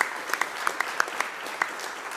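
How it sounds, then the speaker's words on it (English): Light, scattered applause from a small group at a board meeting, individual claps standing out as sharp distinct bursts against a soft background hiss. "please join me in a round of applause for them as well."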